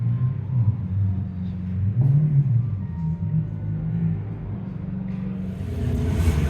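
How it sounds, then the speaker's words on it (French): A Lamborghini Aventador starting up on a street in Monaco, its deep engine rumble swelling into a brief throaty rev before settling back to a loud, close idle. "Et en plus, Aventador qui va démarrer."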